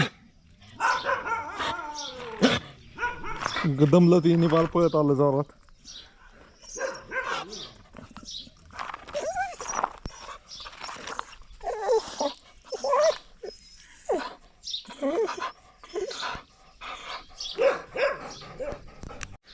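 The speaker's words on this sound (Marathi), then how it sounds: "तिकडे पण बघा कुत्री बुकायला लागली" Dogs bark repeatedly in scattered bursts, some close and some farther off, with a person speaking briefly in between.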